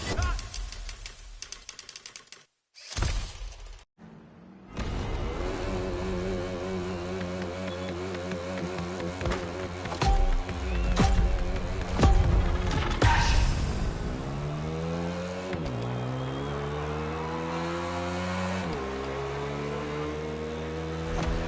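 A motorcycle in the racing game The Crew Motorfest revs and accelerates, its engine note climbing repeatedly through gear changes over about twenty seconds, loud and steady behind game music.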